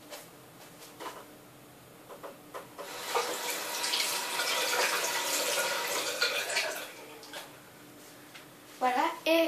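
Tap water runs into a bathroom sink while face scrub is rinsed off, a steady splashing rush that swells in the middle and then stops, with a few clicks and knocks at the start and end.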